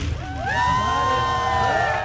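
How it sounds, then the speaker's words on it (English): A large crowd cheering and whooping at a museum ribbon cutting outdoors, a loud swell of voices and shouts rising right after a countdown and holding steady. "Kent Wainscott shows us the large crowd that turned out to be among the first through the doors"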